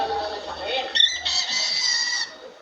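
An African lovebird imitates a rooster, giving a thin, high-pitched, crowing-like call in a few rising and falling bursts lasting about a second and a half, fairly close, over faint background voices.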